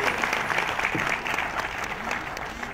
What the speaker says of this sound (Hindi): अभी भी आपकी ये तालियां मेरी आवाज में दब रही हैं।